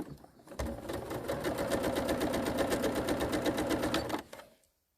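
A sewing machine stitches two quilt strips together for triangle wildlife panels, a rapid, even mechanical chatter starting abruptly, running steadily for about three and a half seconds close by, then stopping.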